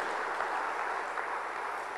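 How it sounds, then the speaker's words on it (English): A church congregation claps during a sermon, producing a dense, steady wash of applause that holds evenly throughout without pause. "Somebody clap your hands for the King of Kings."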